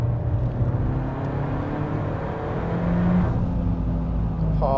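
A Peugeot 308 GTi driven flat out at Anglesey Circuit gives a steady, close engine drone with road rumble, the pitch shifting as revs change, heard from inside the car.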